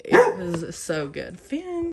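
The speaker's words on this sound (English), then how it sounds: "That was my dog barking at nothing." A pet dog barks indoors at home in several short, close, harmonic yaps, overlapping with a person talking.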